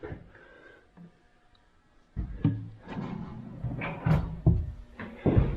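Four large wooden drawers slide open and shut in a series of soft runs and light knocks, rising to louder thumps toward the end, with no one talking.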